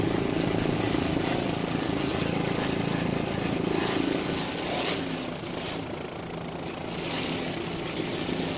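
A 28-foot Rindle offshore racing powerboat roars with a loud, continuous engine drone during a race at the 1999 APBA Offshore Powerboat World Championships in Key West, its tone wavering slightly throughout.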